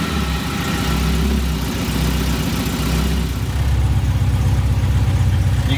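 Supercharged Austin-Healey Sprite engine firing up and settling into a steady idle, a loud, continuous low rumble close by that grows slightly stronger and more rhythmic toward the end, with no voices.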